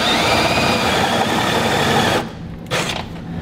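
A drill or step bit bores out a hole in the steel frame of a 2017 Jeep Renegade during a hitch install, a loud steady whine for about two seconds before it briefly cuts and restarts.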